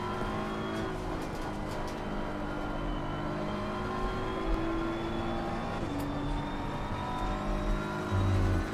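A BMW race car in Assetto Corsa Competizione drives at speed, its engine a loud, steady droning whine that shifts pitch through gear changes and throttle lifts, continuous and close throughout.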